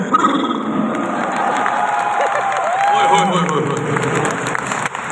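Audience at a Daraz summit event in Lahore claps and cheers together, a sustained roar of applause with shouts and whoops rising and falling, filling the hall for several seconds.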